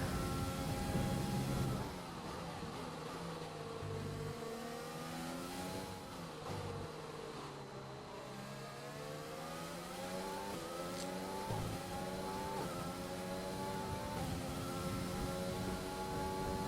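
A Formula 1 car engine in the F1 2020 video game screams from an onboard view at the British circuit, rising and falling in pitch through gear changes and corners, loud and continuous with no talking.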